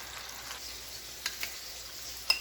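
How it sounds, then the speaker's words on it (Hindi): Kebabs frying in a pan on a stovetop, a soft steady sizzle with a few faint sharper crackles and pops near the end. "हम कबाब को फ्राई कर लेते हैं"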